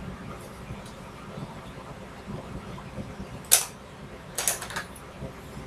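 A plastic battery cover on a wireless keyboard clicks open, giving two short, sharp snaps near the end over a quiet room background.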